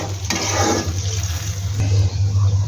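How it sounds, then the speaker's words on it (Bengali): Water boiling in a pot for a sweet-sour mango mash with turmeric and sugar, a close rolling bubble and churn with a low rumble, loud and steady for a few seconds. "পানিটা ফুটে এসেছে"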